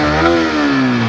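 A Yamaha R15 motorcycle fitted with a modified silencer holds a loud, steady rev. The rasping exhaust drone sits close up and dips slightly in pitch as the throttle eases.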